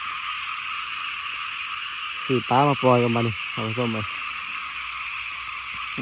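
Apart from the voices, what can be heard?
frogs croaking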